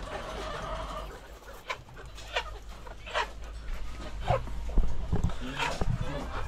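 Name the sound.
chickens clucking, roosters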